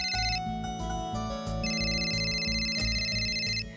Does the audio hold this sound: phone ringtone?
yes